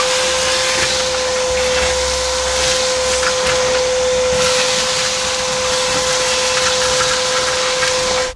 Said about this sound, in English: I've vacuumed up most of the rust that was all loose in here